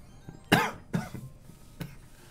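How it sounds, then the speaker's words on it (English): A person coughs three times, two close together and then a softer single cough, with short quiet gaps and no talking. "I'm sorry if y'all are annoyed with hearing me cough"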